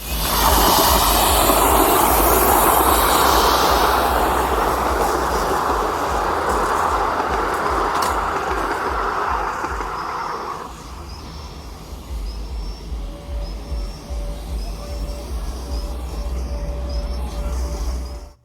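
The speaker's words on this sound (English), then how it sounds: "An NMBS Type 5 loco, or SNCB if you like." A model NMBS (SNCB) Type 5 locomotive runs with a loud, steady rumble that eases to a quieter roll partway through, and a thin, faint tone drifts in near the end.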